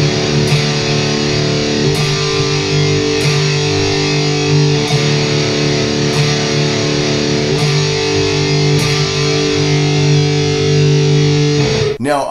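Loud distorted electric guitar power chords in a metal style, starting on C then D, ring out sustained and heavy, with regular rhythmic strikes and a sudden cutoff at the end.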